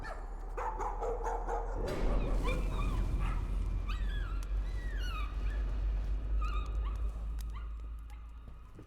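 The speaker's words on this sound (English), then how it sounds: "I got a dog" A dog in the horror game Layers of Fear barks, yips and whimpers in high, wavering cries over a loud, rumbling, roaring background.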